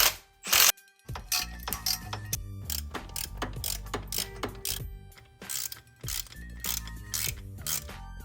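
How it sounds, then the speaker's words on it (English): Ratchet wrench bolting a turbo exhaust manifold with a steel multi-layer gasket onto a Toyota engine, giving rapid close-up clicking bursts in short runs, along with metallic clinks between turns. "the manifold is now fully bolted on"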